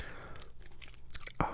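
Soft, close gum chewing in a whispered ASMR session, with moist smacking and light crunchy bites over a faint hiss, ending in a sharper clicky mouth sound.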